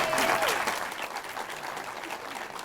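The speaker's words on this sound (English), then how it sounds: "let's give them another round of applause" A crowd at General Motors headquarters gives a round of applause for a film crew, loud dense clapping that starts strong and eases slightly while staying sustained, with a brief voice at the very start.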